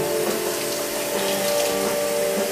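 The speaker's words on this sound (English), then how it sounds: "I'm gonna rinse some of these out" Broccoli rinsed under a running kitchen tap: a steady, close rush of water hissing without a break, with no voices.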